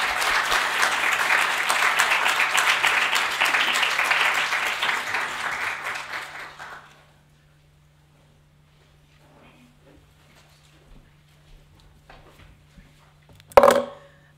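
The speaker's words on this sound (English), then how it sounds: "All right, let's give a round of applause for Dr." Audience applause at a campus summit, dense clapping from a crowd that fades out midway, followed by near silence, faint rustling and a brief sharp knock near the end.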